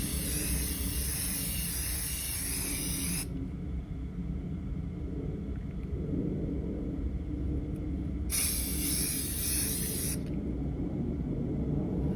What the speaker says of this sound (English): You just want to spray it nice and evenly.